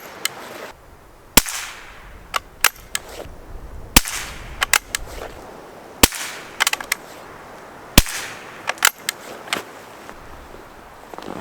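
Subsonic 60-grain Aguila .22LR rounds fired from a Schultz & Larsen Otterup rifle at an outdoor range, about five sharp, fairly quiet cracks at irregular intervals, each trailed by smaller clicks and taps of handling against a low breezy background.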